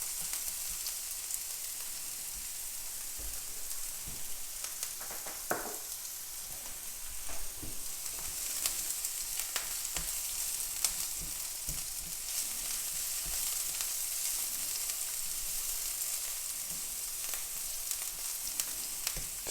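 Banana shallot and garlic sweat over medium heat in a pan, giving a soft, steady sizzle throughout with a few faint clicks and stirs, no voices.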